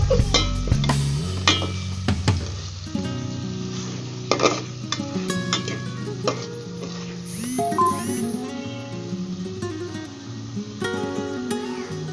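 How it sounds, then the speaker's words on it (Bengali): A fish head fries with a steady sizzle in a pan with spices while a utensil stirs and scrapes against the metal in repeated strokes, with no talking. "মাছের মাথাটা উল্টে উলট পালট করে দিতে হবে সব পাশ যেন ভালোভাবে ভাজা হয়"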